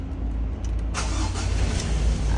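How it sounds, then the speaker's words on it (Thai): A 2017 Ford Ranger 2.2 XL pickup engine turns over and catches, settling into a low, rumbling idle, heard from nearby at moderate volume without talk. "นะครับเครื่องยนต์ติดแล้ว เดี๋ยวมา ฟังเสียงเครื่องยนต์กันนะครับ"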